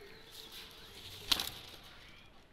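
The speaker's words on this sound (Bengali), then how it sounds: "দুটা কবুতর ছেড়ে দেখাচ্ছি, দেখেন" Two Sialkoti pigeons are released and take off with a short, close burst of flapping wings in the middle, over faint background ambience.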